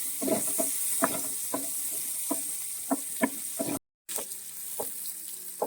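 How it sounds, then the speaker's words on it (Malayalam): Shallots and tomato sauté in hot oil for a Kerala-style fish curry, giving a soft continuous sizzle broken by regular scraping and stirring clicks of a spoon against the pan, with a brief dropout midway. "1 തക്കാളിയും കൂടി എടുത്തിട്ടുണ്ട്, അതും കൂടി ഒന്ന് എണ്ണയിൽ നമുക്ക് വഴറ്റിയെടുക്കാം."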